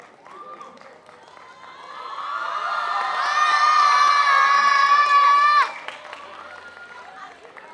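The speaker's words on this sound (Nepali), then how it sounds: "सबैले ताली बजाए।" Children and audience at a school singing idol contest erupt in cheering and applause for a young runner-up, building into loud sustained shouting and whooping that cuts off sharply, with clapping and crowd noise throughout.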